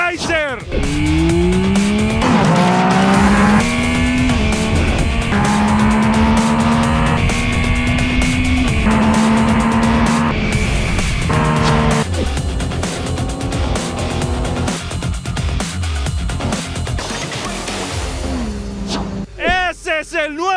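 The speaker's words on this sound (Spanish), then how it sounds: "¡Ese es el nuevo motor de Yamaha! ¡Es una bestia ese motor!" A Yamaha Tracer with the new engine revs hard and accelerates through rising gear pulls, loud and close, its tone climbing and dropping with each shift over a steady roar, with a voice shouting over it near the end.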